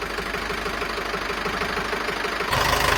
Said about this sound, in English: let me show you the engine running